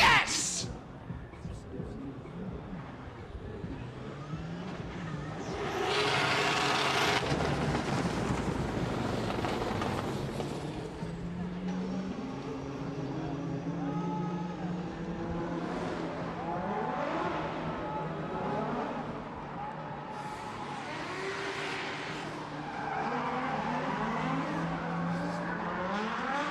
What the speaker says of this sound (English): Some wonderful drifting there, trying to hold the ground